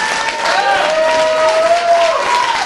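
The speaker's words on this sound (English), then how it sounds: "So give him a round of applause." Audience applause at a stand-up comedy show, steady clapping and crowd noise throughout with a voice speaking over it.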